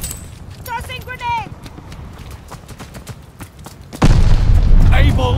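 A grenade explodes during a Call of Duty Vanguard capture-the-flag match: a loud, sustained boom erupts after a few seconds of shouted voices and scattered battle noise.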